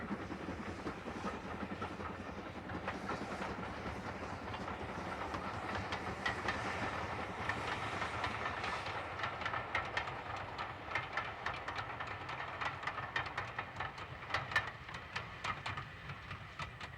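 GWR steam locomotive 6619 runs through a steep valley on the North Yorkshire Moors Railway, a faint, distant, steady rumble with light rhythmic rail clatter.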